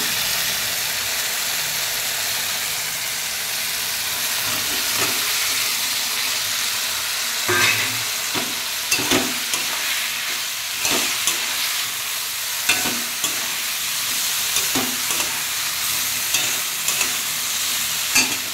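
Soybean chunks frying in oil with spices for a vegetarian soybean curry, a steady hissing sizzle throughout, with spatula scrapes and stirring knocks from the middle onward, close and fairly loud.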